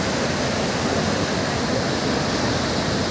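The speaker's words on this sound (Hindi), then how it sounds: "पानी इतनी रफ्तार से नीचे की ओर गिर रहा है और वह गिर करके धुएं के समान ऊपर की ओर उठ रहा है।" Dhuandhar waterfall on the Narmada river roars as a loud, steady, unbroken rush of falling water that rises as spray, filling the whole sound with dense noise and no voices.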